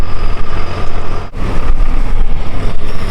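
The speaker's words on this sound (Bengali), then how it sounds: "ট্রাক আসছে" A truck approaches on a rural river-island track along the Padma, its loud, close engine rumbling heavily and continuously with a brief dip partway through.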